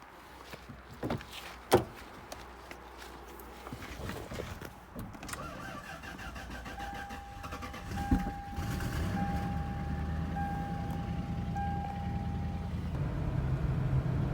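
A Lexus car with a weak battery starts up after a few clicks and door or window thumps, then its engine settles into a steady road-driving rumble that holds to the end, with a faint whine partway through.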